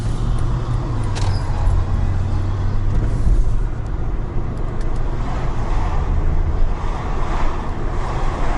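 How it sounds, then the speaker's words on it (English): Interior of a Mercedes E55 AMG on the move, a steady low engine and road rumble mixed with heavy wind buffeting, continuous and fairly loud with no talking. "So we're in the AMG E55."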